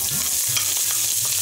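Chopped onion sautéing in hot oil with cumin seeds, a steady loud sizzle and crackle with soft stirring scrapes, no voices.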